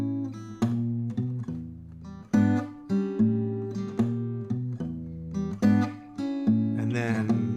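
Fingerstyle blues vamp on acoustic guitar, a repeating bass-note figure with plucked chord stabs in an even, swinging rhythm, close and clear, ending in a brief strummed flourish.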